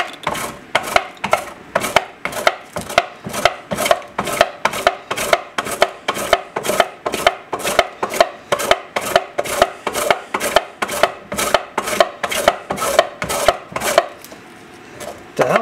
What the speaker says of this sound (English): Now we're going to grate in 3/4 of a cup of frozen butter.